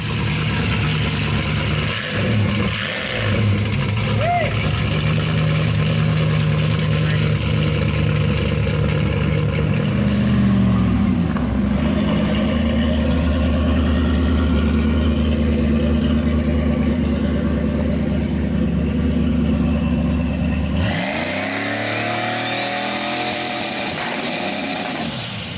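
A drag car engine fitted with FP7875 twin turbos: a loud, sustained deep roar that holds steady for most of the time and shifts in pitch near the end, with no talk.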